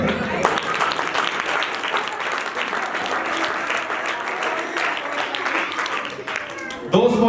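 Loud, sustained applause from a crowd at a family-themed talk, dense clapping running steadily for several seconds, with a brief shout near the end.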